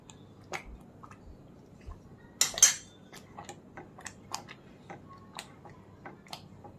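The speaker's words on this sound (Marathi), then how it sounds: "आता हे हलवत राहायचं आहे सारखं." A spoon stirs amla chunda with fresh lemon juice, giving soft scattered clinks and taps against the pot, with a brief louder cluster of scrapes partway through.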